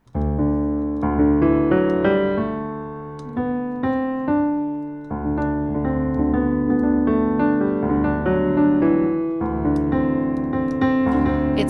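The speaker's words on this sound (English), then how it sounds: "All right, so Mixolydian sounds like this." A Mixolydian scale played on an instrument, sustained pitched notes stepping through the mode one after another at a steady moderate pace, clear and close with no talking.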